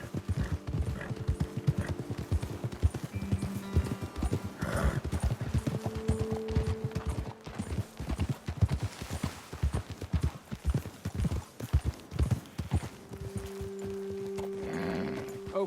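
Horses in Red Dead Redemption 2 trot with a dense, steady clip-clop of hooves, heard close, with occasional tack jingles and brief snorts or whinnies throughout.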